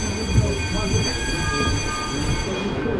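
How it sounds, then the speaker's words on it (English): An underground metro train in Istanbul rumbles loudly and close, with a steady rolling roar, high tonal whine and some rattling of the car, a continuous ride sound throughout. "right now I want to ride on the metro underground and show you guys how it is."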